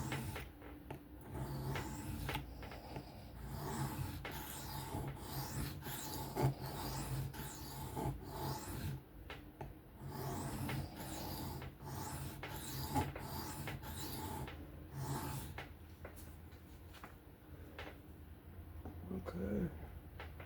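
Freehand sharpening of a Civivi Yonder knife with 14C steel on a whetstone, a steady run of soft rasping strokes repeating at close range with brief pauses, some faint background chirps behind it.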